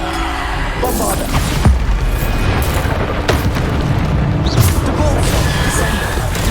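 Bombarda spell blasts boom in a Harry Potter video game, several deep, heavy explosions that thud out one after another over constant game noise, while a voice talks throughout.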